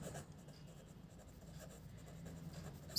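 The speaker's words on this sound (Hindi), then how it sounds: "तो हम लिखेंगे" A pen writes on paper during a class 6 algebra lesson, giving faint, steady scratching strokes for a few seconds with no talk over it.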